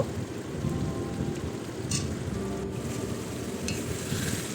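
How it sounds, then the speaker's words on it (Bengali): Thick tilapia curry gravy simmers in a pan over a gas stove, a steady close bubbling sizzle with no voices. "আমরা আরও 5 মিনিট মতো গ্রেভিটাকে ফুটিয়ে নেব"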